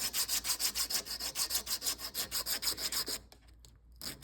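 A packing tool blank is rubbed back and forth on sandpaper in a fast, even rhythm of about a dozen and a half gritty strokes up close, then stops, leaving a few faint scrapes.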